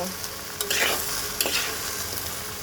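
Tengra fish chachchari with salt is stirred in a frying pan, a steady soft sizzle broken by a couple of sharp spatula scrapes, close and without voices.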